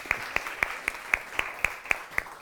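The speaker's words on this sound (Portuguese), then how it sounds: "Palmas para eles." A few hands clap in a slow, even rhythm at a musical tribute event, about ten distinct claps in quick succession, fairly close and moderately loud over a soft room hiss.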